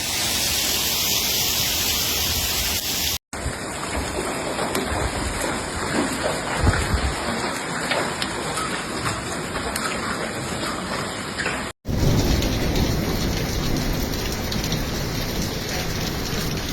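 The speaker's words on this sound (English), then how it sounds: "A rain and hailstorm" Heavy rain pours down steadily during a hailstorm in Salento, Italy, a dense, loud and continuous hiss of water hitting surfaces. No distinct thunderclap stands out, and two brief cuts interrupt the roar.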